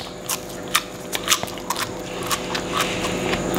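Crisp romaine lettuce leaf bitten and chewed close up, a string of sharp crunchy snaps and crackles over several seconds, quiet and without talk.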